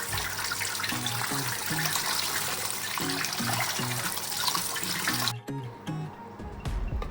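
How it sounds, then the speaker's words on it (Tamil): Fish for village-style ayira meen kuzhambu being rinsed under a running tap, a steady broadband rush of water with splashing, briefly interrupted near the end before resuming, with no talking. "நல்லா டேப் வாட்டரில் வாஷ் பண்ணியாச்சு"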